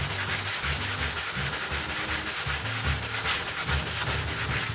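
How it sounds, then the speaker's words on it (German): Rhythmic sanding strokes scrape steadily back and forth along the edge of sprayed filler on an Oettinger TCR Street Kit car body, loud and close, with a hissy, gritty texture repeating about four times per second. "Und schleife es quasi an diese Kante scharf ran."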